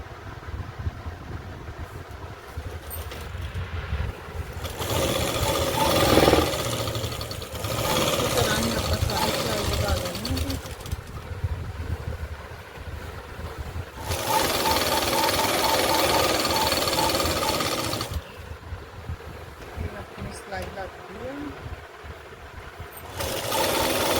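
A sewing machine stitches palazzo trousers in bursts of steady whirring and rattling, with quieter pauses between runs while someone speaks between and over the stitching.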